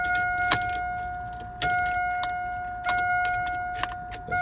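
Ignition key of a 1988 Ford F250 truck turned repeatedly while failing to engage the lock cylinder and starter switch: several sharp clicks with jingling keys over a steady electronic tone, and no engine starting.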